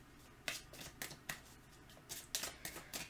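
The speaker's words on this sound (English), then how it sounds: "I am shuffling the Arcana of Astrology right now" Tarot deck called the Arcana of Astrology being shuffled by hand: a run of crisp riffling bursts and card slaps at close range, uneven in rhythm, with no talking.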